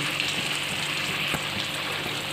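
A little water splashed into a hot pan of dried mango pickle, giving a steady, even hiss and crackle of sizzling throughout, close and fairly loud with no talking.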